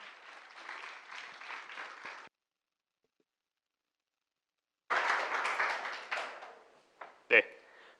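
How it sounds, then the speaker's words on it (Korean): Audience at a Korean business analysis competition applauds to welcome a presenting team, two bursts of dense clapping separated by a silent gap, the second ending with a few scattered louder claps. "박수로 모시겠습니다."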